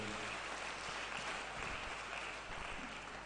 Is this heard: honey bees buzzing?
no